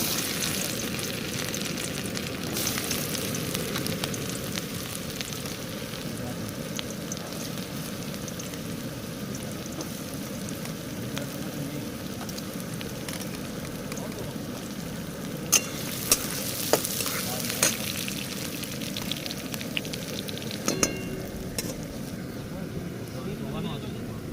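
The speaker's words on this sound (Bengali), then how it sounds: "সুন্দর করে ভাজা হয়ে গেছে আমাদের এগুলো গাজরগুলো" Steady sizzle of carrots frying in a pan outdoors in a forest, with a few clinks of stirring partway through and faint talk in the background.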